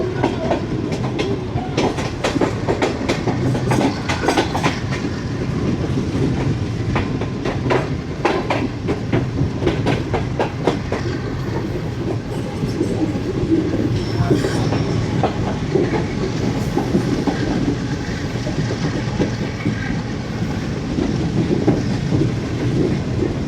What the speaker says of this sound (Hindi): बहुत ही स्वीट रम्बलिंग सुनाई दे रही है जी आपको जीवर 12 प्राइम मूवर की